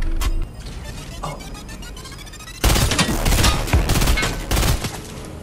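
Rapid bursts of gunfire and booms erupt in a video game gunfight, starting quieter and then turning into a loud, dense volley of overlapping shots and blasts in the second half.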